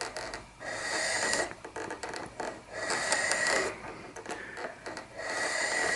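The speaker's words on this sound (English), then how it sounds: "This is a number 1 file for anybody who might be interested." Number 1 file reshaping the exterior of a tobacco pipe stem, close rasping strokes in an uneven rhythm with brief pauses between passes, moderately quiet.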